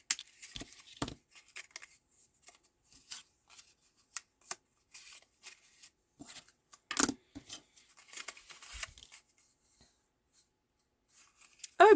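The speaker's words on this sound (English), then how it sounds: "So let's just snip off" Scissors snip card paper for a napkin ring craft project, making a quiet, scattered series of short crisp cuts and rustles with pauses between them.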